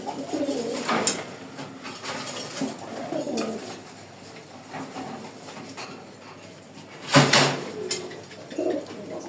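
Pigeons cooing close by, a pair kept in a loft, giving repeated soft low calls in short bursts with a louder coo near the end, with no talk over them.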